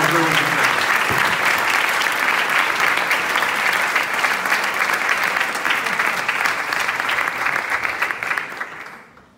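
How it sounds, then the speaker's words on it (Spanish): A theater audience applauds a band, sustained loud clapping throughout that fades out near the end. "pido un aplauso para nuestra banda"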